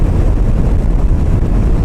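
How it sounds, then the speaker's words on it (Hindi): Strong coastal wind buffeting the microphone during a ride on a Himalayan 450 motorcycle, a loud, constant low roar with no voices. "बहुत ही ज़्यादा तेज़ हवा चल रही है यहाँ पर।"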